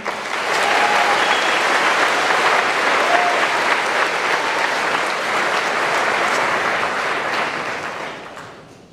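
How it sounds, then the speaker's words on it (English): Sustained audience applause at a high school senior awards and cording ceremony, a dense, steady wash of clapping from a crowd that holds for several seconds and then tapers off at the end. "Let's clap for these 3 wonderful seniors."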